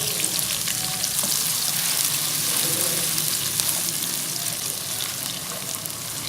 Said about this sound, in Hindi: अब सेम पैन में एक मीडियम साइज़ की प्याज जो मैंने थिनली स्लाइस कर ली है इसको ऐड कर दें